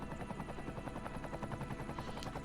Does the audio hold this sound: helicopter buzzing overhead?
yes